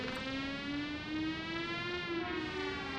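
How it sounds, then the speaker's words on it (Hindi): A wailing siren drones steadily with a rising, slowly wavering pitch, sounding distant and moderately loud with no voices. "ओह, ये सायरन किसी दिन जान ही ले लेगा।"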